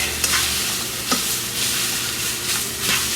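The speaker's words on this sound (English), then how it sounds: "when I mix it, it's gonna be mixed with the onions and the garlic" Onions, garlic and bacon frying in a pot for homemade zuppa toscana, a loud close sizzle with about four distinct stirring scrapes spaced through a short stretch.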